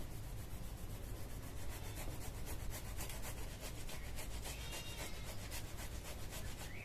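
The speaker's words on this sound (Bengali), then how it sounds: "আমি টমেটোগুলো গ্রেট করে নেব" Ripe tomatoes rub against a kitchen grater in fast, repetitive strokes, a soft rasping scrape that continues evenly throughout at low volume with no voices.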